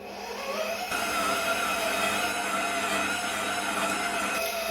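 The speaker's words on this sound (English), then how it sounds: "I'm going to finish the mixing process on the mixer" An electric stand mixer kneads pizza dough on its lowest speed, giving a steady, loud motor whir that holds evenly throughout without pause.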